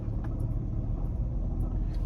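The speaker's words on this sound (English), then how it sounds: "Oh man, the car coming." A car comes closer as a deep, steady low rumble that holds at an even level for about two seconds with no voices over it.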